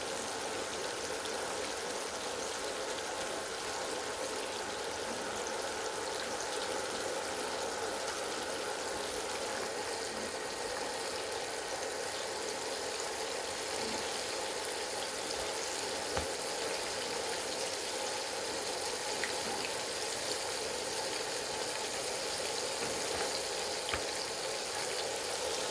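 Battered chicken basket pieces fry in hot oil in a skillet, fair-style chicken on a stick, giving a steady, dense sizzle and crackle with faint popping throughout, close and continuous with no talk.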